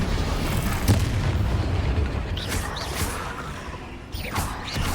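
Confringo blasting spells explode during a spider fight in the video game Hogwarts Legacy, heavy booms and rumbling blasts with sharper cracks breaking through, loud and sustained.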